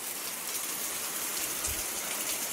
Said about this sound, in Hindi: एकदम बढ़िया स्पीड पे बारिश हो रही है, झमाझम बारिश हो रही है